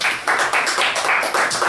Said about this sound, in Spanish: Un aplauso para Kiku